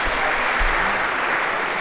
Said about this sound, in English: maybe a round of applause for palm tree on an island if we could